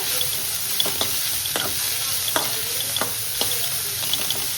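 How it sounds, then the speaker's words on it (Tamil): Green chilli, ginger, garlic and onion sautéing in a pan for bread samosa filling, a steady bright sizzle with repeated light scrapes of a spatula, close and fairly loud, no voices. "வெங்காயத்தையும் ஆட் பண்ணிக்கோங்க. நல்லா வதக்கிக்கோங்க."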